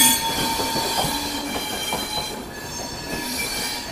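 The Jammu Mail train passing near Subedarganj, Kanpur, with loud squealing wheels and rhythmic clacking of railcars running steadily close by, without voices.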